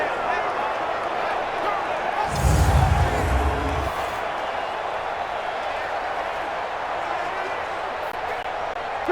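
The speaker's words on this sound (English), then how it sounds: "The crowd here in the Dome making things difficult." A stadium crowd roars steadily inside the Dome in Madden NFL 20 during a Chicago Bears versus New Orleans Saints game near the goal line, a constant wash of noise under play-by-play commentary with a brief louder thump.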